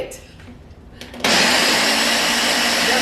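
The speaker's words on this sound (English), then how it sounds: "Okay, we're gonna mix, puree it" A countertop blender suddenly roars to life after a quieter moment, steadily pureeing a sauce with a teaspoon of apple cider vinegar for a mango honey garlic chicken dish, a loud continuous whir close by.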